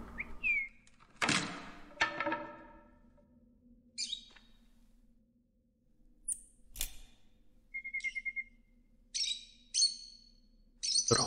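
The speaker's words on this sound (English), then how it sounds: "And a bunch of birds." Birds in the video game FBI Tales, sharp chirps and short twittering calls scattered across a quiet backdrop with a low steady hum, broken by a few thumps near the start.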